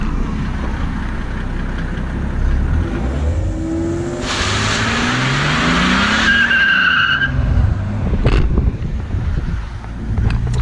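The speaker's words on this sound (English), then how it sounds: "I'll stick the camera outside and I will do a burnout, or at least as much of a burnout as this thing will let me" Mercedes W210 with an OM606 diesel engine doing a burnout, recorded from outside the car: a loud, continuous engine roar with rising and falling revs and a harsh tire-squeal burst midway, under steady wind noise.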